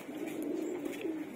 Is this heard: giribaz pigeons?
yes